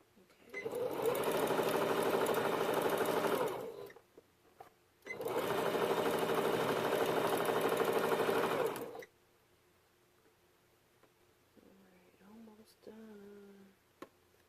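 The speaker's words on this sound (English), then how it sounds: "Sewing like all the way through without any edits" A sewing machine runs in two long, steady bursts while stitching a fence rail star quilt block, each lasting several seconds with a short pause between, followed by quieter room sound and a brief voice.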